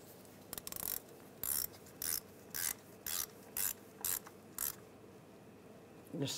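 Ratchet tightening a bolt on a speed sensor bracket of a 1995–2001 Ford Explorer: about nine short, evenly spaced rasping clicks, close up, alone.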